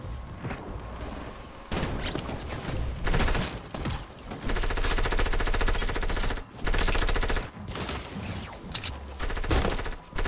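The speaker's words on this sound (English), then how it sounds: "This gun should definitely hit hard." Gunfire in Fortnite Season 6, with dense automatic bursts and rapid shots sounding loud and close, broken by short pauses over about ten seconds with no talking.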